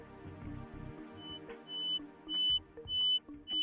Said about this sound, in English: I'm going to take this out of my ear because it's going to beep.